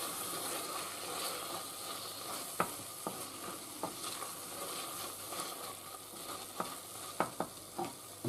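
Coca-Cola ketchup is stirred in a pan over a steady sizzle and hiss. A spoon clicks and scrapes against the pan a few times, quietly and close, with no voices.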